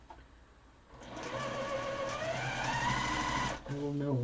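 A sewing machine stitching a quilt runs in one continuous fast whirring burst, close and loud, starting after a moment of quiet and slowing near the end, with faint talking around it.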